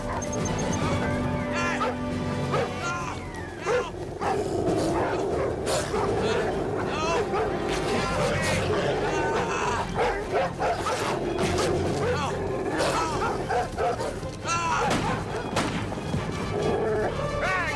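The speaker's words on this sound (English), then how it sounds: "Sounds like dogs." Several dogs bark, yip and whimper repeatedly and fairly close, with scattered crashing knocks and voices mixed in.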